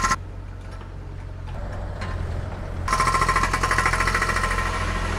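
Road-construction jackhammer working just outside the Song Shaodi imperial tomb near Chiwan Park in Shenzhen: a low machine rumble that breaks into loud, fast, rhythmic hammering about halfway through and keeps going steadily to the end.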